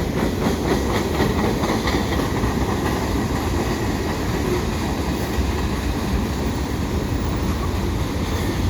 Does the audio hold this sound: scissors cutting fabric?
no